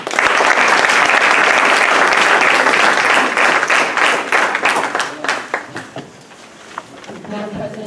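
Loud sustained applause from an audience at a school board of education meeting, dense clapping that holds steady and then thins out and fades over several seconds.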